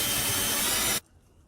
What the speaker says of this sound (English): now I want to pre-drill them. So I'm just using a 1/4 inch drill bit.